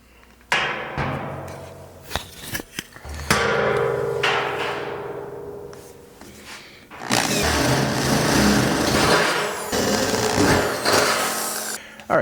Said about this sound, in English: now I'm going to drill a 3/8 inch hole on each side to get started